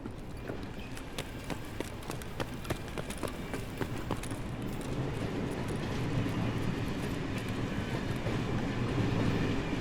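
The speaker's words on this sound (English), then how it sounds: "Might be taking the train at this point." A train in Escape from Tarkov rolls along with a steady rhythmic clatter of wheels over rail joints, then swells into a louder continuous rushing rumble as it nears, with no voices.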